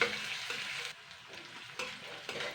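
Sliced onions and home-dried red chillies stir-fried in a pan, a steady close sizzle broken by repeated scraping strokes of a spatula, with no talking.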